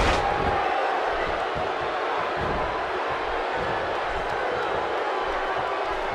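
A wrestling arena crowd in WWE 2K16 roars in a steady, dense wash of cheering and noise throughout, loud and continuous, with a commentator's voice faintly mixed in.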